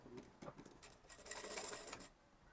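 A sewing machine stitching tucks on a kurti sleeve, a few quiet clicks followed by a short whirring run of stitches, faint and close.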